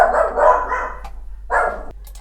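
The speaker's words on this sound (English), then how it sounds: "Oh, my doggies are barking." Dogs bark in two loud bursts nearby, the second after a short pause, with some yipping at the end.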